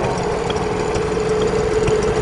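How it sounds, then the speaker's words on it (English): A Stuart stationary engine, made by Stuart Turner Limited and on display at a military show, runs steadily at idle with an even, continuous mechanical drone and no talk over it. "Stuart stationary engine"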